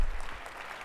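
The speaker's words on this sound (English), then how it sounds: "How about another quick round of applause for Mayor Bibb?" Short burst of audience applause at a State of the City address in honor of Mayor Justin Bibb, fairly loud at first and tapering off within a second.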